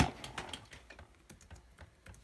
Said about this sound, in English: He's typing in.